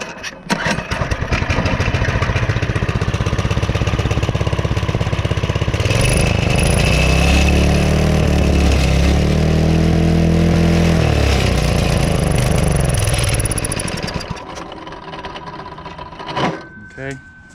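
A small gas engine on a minibike with a fuel issue revs up hard, a loud buzzing rising and falling in pitch with a whining overtone, then cuts out to quieter knocks and a voice.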